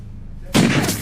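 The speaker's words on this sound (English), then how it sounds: "So he really draws it quick and fires." A single sharp gunshot from a quick-draw revolver in a reenactment of the Alec Baldwin shooting, sudden and loud after near silence, with a short decaying tail.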